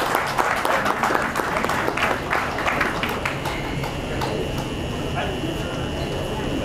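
Applause rises from the audience at the opening session of an All India Marwari Yuva Manch event, a dense clatter of many hands filling the hall with scattered claps and steady crowd noise throughout.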